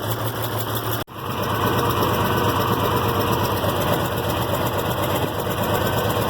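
IH Farmall 706 tractor engine idling once warmed up, a steady, close, rumbling chug that runs throughout with a brief dip near the start.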